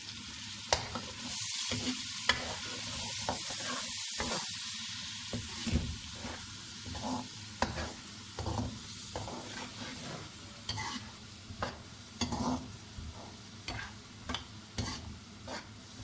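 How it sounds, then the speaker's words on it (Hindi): Tomato paste fries and sizzles steadily in a pan while a utensil stirs and scrapes through it, with occasional louder clicks and knocks. "अब पेस्ट के साथ इसको कुछ देर भून लें ताकि ये कच्चापन टमाटरों का ख़त्म हो जाए।"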